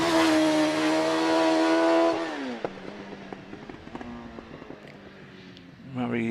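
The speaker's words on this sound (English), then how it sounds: "Murray Wakeham in the OMS CF96 is on the start line and goes away. And that 999cc motorcycle engined single-seater." An OMS CF96 single-seater race car with a 999cc motorcycle engine screams away from the start line at a hill climb, the high revving loud at first, then dropping back and fading into the distance through quick gear changes.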